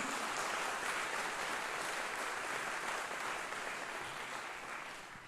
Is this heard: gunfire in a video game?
no